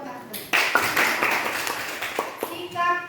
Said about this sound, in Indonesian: Iya, tepuk tangan dulu buat Ardon.